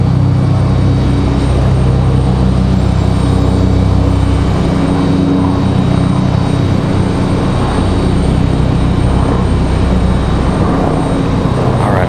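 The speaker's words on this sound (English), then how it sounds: "757 getting out of here." A loud, continuous roar of a Boeing 757 jet departing Raleigh-Durham International Airport, dense and sustained throughout, with no voices.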